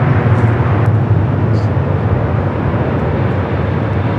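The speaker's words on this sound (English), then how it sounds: "A few Delta 757s heading over here for north side at takeoffs." Delta Boeing 757 jets taking off at LAX, a loud, steady low roar of engines filling the air without a break.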